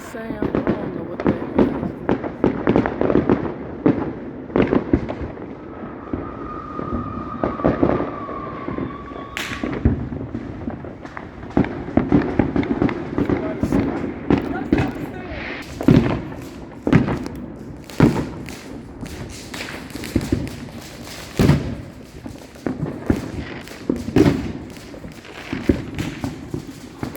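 Fourth of July fireworks go off near a home, a long series of sharp booms and cracks at irregular intervals, some close and loud, with a brief whistle partway through and people talking in between.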